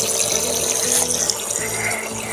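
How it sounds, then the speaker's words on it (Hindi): Water runs steadily from the small tap of a toy kids' kitchen sink, a continuous close splashing hiss with no voices over it. "इसके अंदर से पानी निकल रहा है।"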